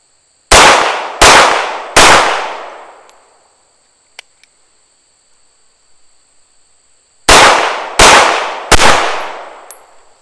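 A CZ75 pistol fires at a shooting range, the first shot in double action and the rest in single action. There are six sharp, loud cracks in two groups of three evenly spaced shots, each with a ringing decay, and a quiet gap between the groups.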